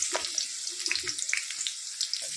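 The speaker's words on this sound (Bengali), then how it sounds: "তেল গরম হয়ে গেছে, এবার গাজর ক্যাপসিকাম সব সবজিগুলো একটু ভেজে নেব।" Carrots and capsicum frying in hot oil, a continuous bright hiss and crackle with small popping spatters, close and steady throughout, no talking.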